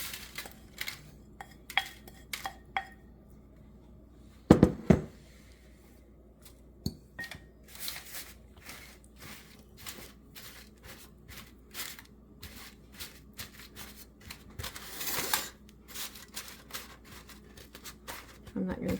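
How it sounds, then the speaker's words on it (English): Crumbled Oreo cookies moistened with melted butter are pressed into a baking pan for peppermint cream squares, making irregular clinks, taps and scrapes of a utensil against the pan, fairly close, with a louder clatter partway through. "And then we are to press this into the prepared pan."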